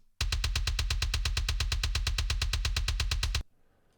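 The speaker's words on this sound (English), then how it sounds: "This is a free sample that I found online, a metal kick drum sample." A metal kick drum one-shot sample is triggered in a fast, steady machine-gun stream of roughly thirty punchy, clicky hits over about three seconds, loud and up close, ending abruptly.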